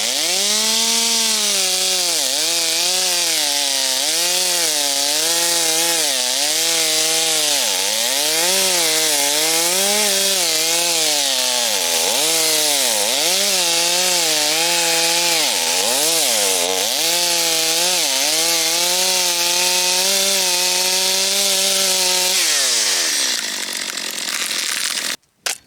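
A Stihl MS250 chainsaw runs loud and close while cutting down a tree in an old windbreak, its engine note rising and bogging repeatedly as it bites into the wood, then dropping off near the end.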